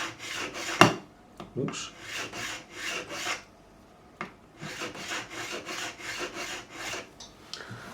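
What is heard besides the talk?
filing a guitar part with a file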